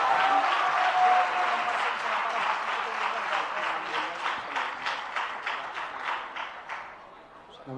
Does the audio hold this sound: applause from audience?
yes